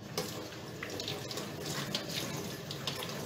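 Steady running tap water rinses ice-dyed fabric in a sink, a continuous close splashing rush with small fluctuations as the cloth moves under the stream.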